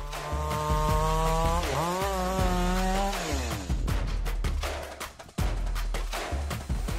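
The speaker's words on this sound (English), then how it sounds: "This powerful chainsaw is equipped with a 36 Tsumura bar and Steelers chain" A chainsaw fitted with a 36-inch Tsumura bar and Steelers chain cuts through logs, its engine droning steadily and rising and falling in pitch with a couple of sharp revs, loud and close with no voices.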